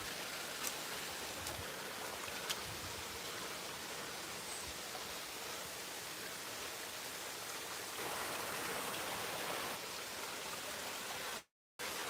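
Steady broadband rush of river water flowing past while out on the river near a churchyard and forest walk, a continuous close wash with a brief dropout near the end.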